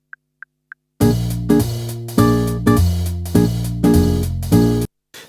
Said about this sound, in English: this is just the backing track that I used